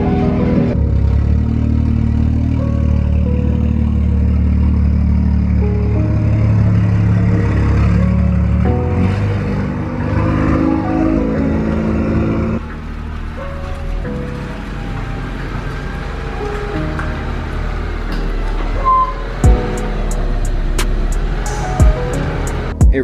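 Honda Accord engine idling and moving steadily as the car is driven into a garage, a continuous close engine drone with a few sharp knocks and clicks toward the end, no speech.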